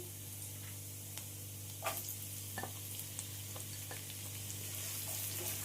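Two chopped medium onions frying with ginger and garlic in a pan for palak paneer, a steady soft sizzle with a low hum beneath and a few faint ticks of stirring.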